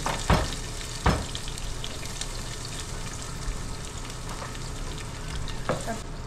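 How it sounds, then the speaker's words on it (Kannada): Chopped onions sizzling in hot oil in a pan, a steady dense frying hiss throughout with a few sharp crackles and pops near the start and end, close and fairly loud. "ಈಗ ಎಣ್ಣೆ ಕಾದಿದೆ, ಟಕ್ ಟಕ್ ಅಂತ ಆನಿಯನ್ಸ್ ಹಾಕೊತೀನಿ"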